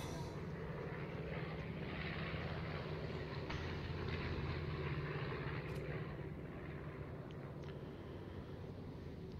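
Steady propeller aircraft engine drone from a plane near the battleship Musashi in a naval game, a continuous mid-distance hum lasting the whole stretch with faint clicks above it.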